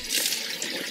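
Tap water runs over blueberries in a plastic food storage container with holes around it, draining out as they rinse; a steady close splashing wash lasting under a second, with no talk.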